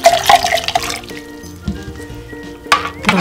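Half a litre of water is poured into a pot holding beetroot, a brief splashing pour at the start followed by quieter liquid sloshing, close and moderately loud, with no talking.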